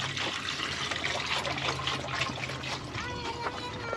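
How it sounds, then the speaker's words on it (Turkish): Water is poured for washing in an arid Wayuu settlement, a close, steady splashing trickle with bright spattering that runs the whole time. "Es agua para lavar"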